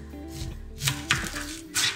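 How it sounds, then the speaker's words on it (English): Knife slices a red onion on a board, a handful of crisp irregular chops spaced through the moment, close and clear with light background hum. "Red onion needs to be sliced, not diced, so nice little slices."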